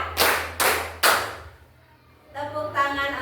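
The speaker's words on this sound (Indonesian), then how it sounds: "tepuk tangan 3" A group claps in unison on cue, three sharp, loud claps in quick succession at an even rhythm, followed by a pause and then a burst of voices in a classroom or training session.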